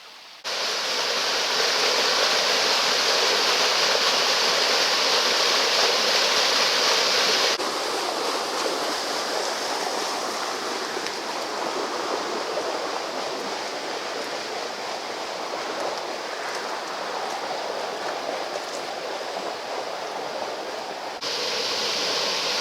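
A clear chalk stream river near Longparish in Hampshire flows steadily, giving a loud, continuous, close rushing wash of water without any break.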